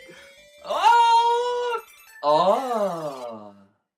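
Two drawn-out synthesized cat meows from the Flicky video game, each about a second long with rising and falling pitch, loud and clear against silence.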